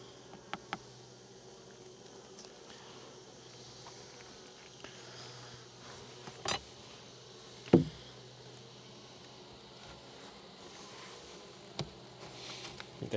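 Honey bees buzzing around an opened queenless hive, a steady close drone that carries throughout, broken by occasional knocks and handling thumps of the hive parts.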